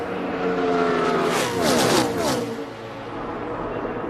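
NASCAR race cars on the last lap of the Sprint Unlimited roar past in a loud pack, engine pitch climbing and then sweeping down as they go by.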